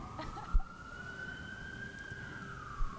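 A wailing siren in Honolulu, Hawaii, holds a rising and falling tone throughout, with a couple of soft thumps and background rumble beneath it.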